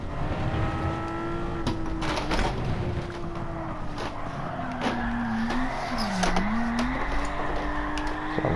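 A race car engine in Gran Turismo 7 holds a steady drone under heavy throttle while drifting on grippy tires, its pitch dipping and recovering, with sharp tire and impact clicks scattered throughout.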